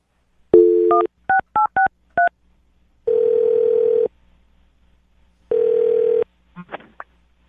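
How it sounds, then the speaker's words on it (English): A quick run of telephone keypad beeps, several short tones in a row, followed by two long, steady ringing tones on the line. Nobody speaks. "I'm going to dial his phone number right now"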